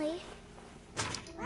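A cat meows in the video game What Remains of Edith Finch, with a short, close mew at the start and another brief cry near the end, set against soft game ambience.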